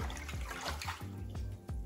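Hot water from boiled pots being poured into a bath when the heat pump is broken, a quiet running, splashing pour with a few soft gurgling surges, close and alone.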